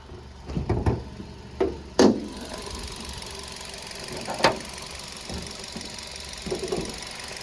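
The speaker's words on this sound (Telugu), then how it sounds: "ఇప్పుడు ఇంజన్ ఆన్లోనే ఉంది, మీరు ఇంజన్ సౌండ్ అయితే వినొచ్చు" A 2016 Hyundai Elite i20 sits idling with its bonnet open, a low steady engine hum running under a few sharp knocks and clanks near the start and middle, with no voices.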